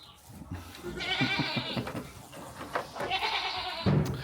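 Several close bleats from sheep sound in quick succession, some overlapping, over a quiet farmyard background.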